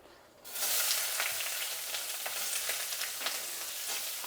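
Onion and green chillies dropped into hot oil in a pan, a bright sizzle that jumps up abruptly and then holds steady and loud, with faint stirring crackles running through it.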